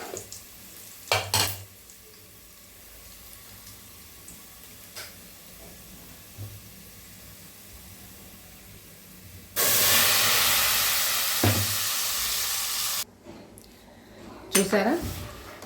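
Dal rasam (pappu charu) poured into a hot tempering sets off a loud, steady sizzling hiss that lasts a few seconds and then cuts off, with scattered utensil clinks and quieter kitchen noise before and after.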